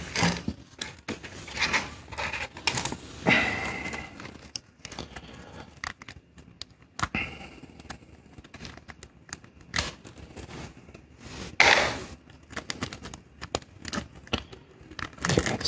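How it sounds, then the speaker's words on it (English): Scissors snip out a part during the rebuild of a Honda power steering pump at home, giving scattered close crisp cuts and crinkling handling noises with short pauses between them. "I'm gonna try to cut this out so that I can have it just drop in"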